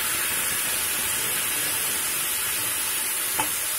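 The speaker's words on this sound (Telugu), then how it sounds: "దీంట్లో మనం తడి లేకుండా కోసి ఉంచుకున్న టమాటాలని వేయించాలి." Cut tomatoes fry in hot oil in a pan while pickle is being made, giving a steady, even sizzle and hiss close by with no talk over it.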